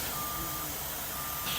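A Mack gravel truck backing up gives a steady, beeping reverse alarm over a constant rumble of background noise, with no talking.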